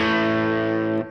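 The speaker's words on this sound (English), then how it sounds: "if I bring the reverb back on the other side of the amp, so it's in the effects loop of the amp" A single sustained electric guitar chord through an amp with reverb in the effects loop rings loud and distorted, then cuts off near the end with a short reverb tail.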